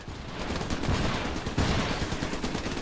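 Gunfire rattles in fast, dense bursts in the co-op video game Trenched, a loud, continuous barrage with no pause.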